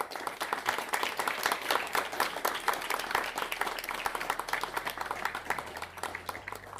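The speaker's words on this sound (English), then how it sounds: "I think that's a moment of applause there." Steady, dense applause from a live podcast audience in a hall, many hands clapping continuously at even volume throughout without voices on top.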